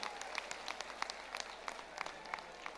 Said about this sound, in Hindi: तालियों की गड़गड़ाहट से हम अपने बागेश्वर धाम महाराज की भी या आशीर्वाद हम लोग ग्रहण करें।